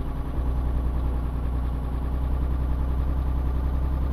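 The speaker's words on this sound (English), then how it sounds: "Well, that was hard for this engine." A vehicle engine runs steadily at mid-low revs after a downshift during a long road trip, a continuous loud drone with a strong low hum and no pauses.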